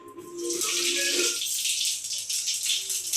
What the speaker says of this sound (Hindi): हाथ में मेरे जीरा है, मेरा तेल गरम हो चुका है तो चलिए इस पर डाल देते हैं